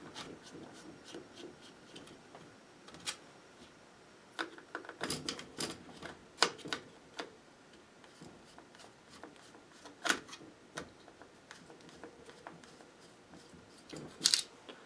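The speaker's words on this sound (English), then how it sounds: "We'll go ahead and remove both those screws." Flathead screws are backed out of an AK rifle stock on a WASR-10, producing quiet, close clicks, scrapes and ticks of a screwdriver on metal, scattered irregularly with a few sharper taps.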